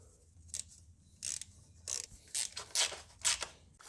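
A hand ratchet tightens the valve cover bolts on a Hyundai i10 engine in short bursts of close, crisp clicking, with brief pauses between strokes.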